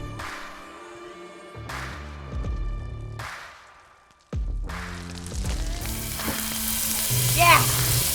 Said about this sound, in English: As the butter melts